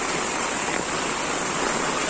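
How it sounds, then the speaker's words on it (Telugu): Steady rain falls outdoors during a cyclone in Amalapuram, a dense even hiss with no breaks and no voices. "ఇక్కడ వర్షం పడుతుంది కాబట్టి"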